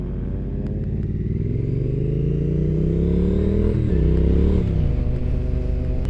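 Triumph Street Twin motorcycle engine heard while riding, a loud close steady drone that climbs in pitch, dips briefly at a gear shift, then pulls again.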